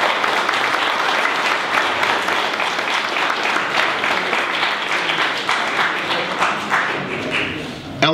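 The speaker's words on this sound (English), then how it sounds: "We'd like to give them a round of applause and say thank you." Sustained audience applause at a mayor's evening reception honoring the City of Holyoke and a museum team, a dense, steady wash of many hands clapping close by for about eight seconds, tapering slightly near the end.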